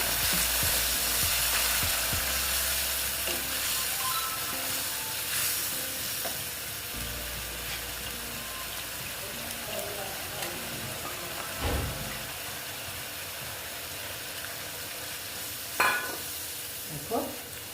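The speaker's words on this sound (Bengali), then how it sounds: "আমি বেশি ভাজবো না কারণ সর্ষের ভাগটা বেশি তো তেতো হয়ে যেতে পারে দেখো একটু ভেজে নিচ্ছি" Ash gourd cooks in a pan with tomato, ground mustard and poppy seed paste, giving a steady soft frying sizzle and hiss throughout, with occasional stirring scrapes and clinks near the end.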